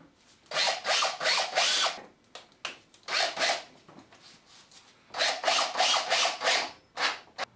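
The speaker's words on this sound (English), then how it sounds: "then I'll pull that down with 2 screws." A power drill drives two screws to pull a panel down onto grab adhesive, heard as three close, loud bursts of whirring with short pauses between them.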